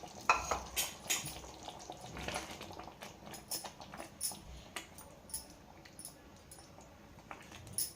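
A spoon stirs egg and drumstick gravy curry in a pan, giving soft, irregular scraping and clinking strokes over a faint simmering sizzle, with no talking.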